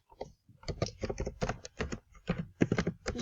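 Fingers type a chat message on a computer keyboard in quick, irregular bursts of close, crisp keystrokes with short pauses between words.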